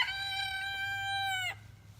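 A single drawn-out rooster crow, bright and close, lasting over a second before cutting off, with a low steady hum underneath.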